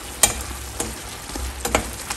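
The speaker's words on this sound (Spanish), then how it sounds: "Lo que necesito es que empiecen a freírse estos jitomates, que empiecen a sacar sus jugos." Tomatoes frying in a pan for a homemade meal, giving a low steady sizzle with a few sharp clinks or stirs standing out at intervals, close up and with no talking.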